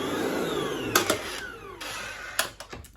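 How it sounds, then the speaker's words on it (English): A Kenwood stand mixer whisks three egg whites in its bowl: a steady, close whirring motor hum with a few sharp clattering bursts along the way, and no talking. "in my washed up Kenwood bowl, I'm just going to tip my 3 egg whites into there and whisk them"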